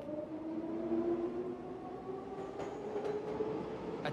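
A train rumbles steadily as it moves, with a sustained low drone and faint tonal hum, and a few light clicks near the end, with no one speaking.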